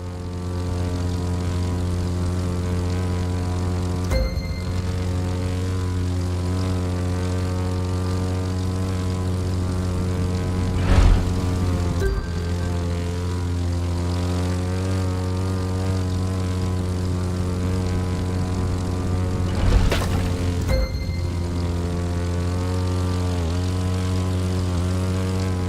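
A propeller airplane in The Crew 2 drones steadily at close range with a strong, even engine hum, with a few brief bumps and swells along the way and no talk.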